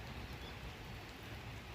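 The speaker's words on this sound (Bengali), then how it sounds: "দেখছেন বাইরে বৃষ্টি শুরু হয়ে গেল" Rain falls steadily outside a home, a continuous soft hiss of drops with no breaks, heard at a low, even level throughout.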